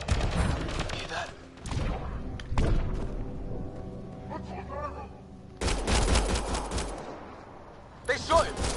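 Bursts of gunfire from the video game Mass Effect: Andromeda, loud clustered volleys separated by quieter stretches, with brief voices between shots.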